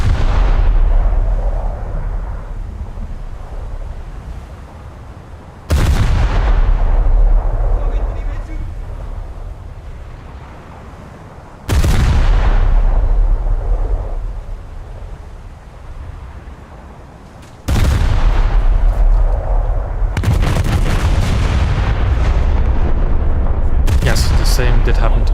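Heavy naval guns from a warship fire in a naval battle video game, three big booming salvos that roll out and decay, with a denser burst near the end, as a voice talks over the top.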